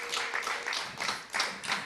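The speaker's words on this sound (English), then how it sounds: "let's give Julie a big warm round of applause" Small audience at a community cooking event clapping for a cook named Julie, a brief burst of light, fairly close handclaps in uneven pulses.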